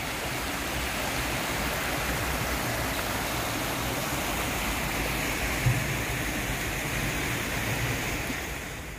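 Water of the Lower Düden waterfall in Antalya, Turkey pours in a constant dense rush, steady and fairly loud, with a faint brief knock partway through and no voices.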